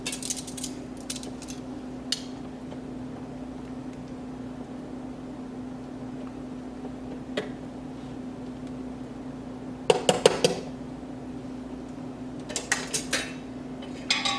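Metal pots and lids clank in a home kitchen during spaghetti cooking, with a couple of sharp clusters of clatter over a low steady hum and long quiet stretches.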